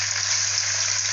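Chicken pieces for korma fry in a pot with a dense, even sizzle, loud and close and unbroken for a brief moment, backed by a low steady hum and no voices.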